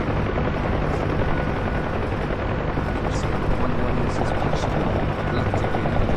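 Gunfire crackles around a UH-1H Huey helicopter in the combat flight sim DCS World, with steady rotor and engine drone dominating throughout and faint, scattered shots mixed beneath it.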